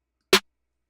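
A single short, crisp snare hit with a bright noisy crack, dry and close, decaying quickly into silence.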